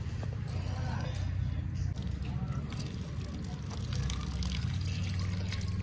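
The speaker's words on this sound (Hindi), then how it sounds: "इतना सा पानी आता है? नहीं, मैं थोड़ा कम खोला है, पानी तो ज्यादा आता है।" Water runs from a partly opened household tap in a village kitchen while ingredients are washed, giving a steady trickling splash over low background noise, with faint voices nearby.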